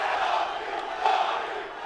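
A UFC press conference crowd roars and chants in a steady, dense wash of voices, swelling briefly partway through the short stretch.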